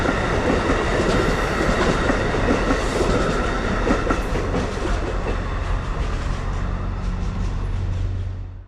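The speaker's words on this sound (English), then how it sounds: "he passed by with Amtrak Vermonter train 57 westbound" Amtrak Vermonter passenger train 57 passing westbound on Track 2, a loud, steady rolling rumble with rail clatter that holds throughout before starting to fade at the end, no voices.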